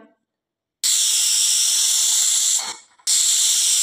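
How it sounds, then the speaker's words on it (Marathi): A pressure cooker on medium gas, with raw mangoes cooking inside, lets out a loud, sharp hissing whistle that starts abruptly, cuts off briefly with a sputter, then screams again, close by. "इथे आपल्या कुकरच्या 2 शिट्ट्या झालेल्या आहेत"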